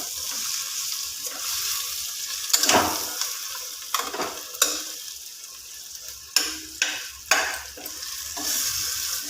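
Mutton frying in a pan with masala for a chirraku mutton fry, stirred with repeated sharp scraping strokes of a spoon over a steady close sizzle, with no talking.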